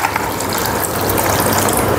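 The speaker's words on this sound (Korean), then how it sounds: "넣고 물도 좀 추가하고" Water poured into a pot of clam soup made with manila clams, a loud, close, continuous gushing splash over the whole stretch, with no talking.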